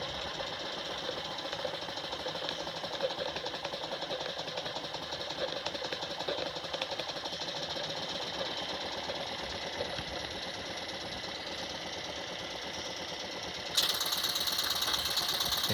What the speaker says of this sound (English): Such a nice running engine, nice and quiet.